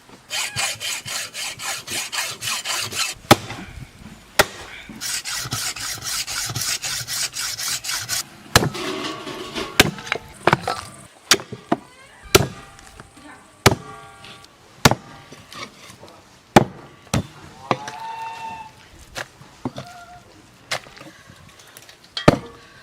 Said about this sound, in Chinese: 牛棒骨有点硬，刀子进不上，拿锯子往开锯一下就剁开了。